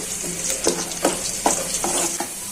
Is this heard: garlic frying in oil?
yes